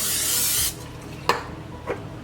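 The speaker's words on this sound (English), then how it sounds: "I'm just going to coat them with the cooking spray" Cooking spray hisses steadily for under a second as food is coated, then stops, followed by two light clicks in a quiet room.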